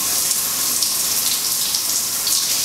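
Steady, loud shower water streams and splashes continuously as makeup on a face is run beneath it, a dense broadband hiss with no talking.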